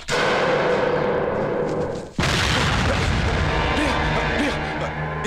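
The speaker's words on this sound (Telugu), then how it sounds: "నా సెల్ రింగ్ టోన్." A mobile phone ringtone made to sound like a bomb explosion: a sustained loud roar and rumble, a sudden deep boom cutting through midway, then continued heavy crashing noise.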